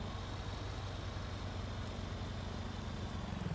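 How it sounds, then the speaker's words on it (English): A tractor towing a manure spreader drives past in Farming Simulator 19, giving a steady low engine rumble that holds fairly constant and close throughout. "here comes a tractor right now"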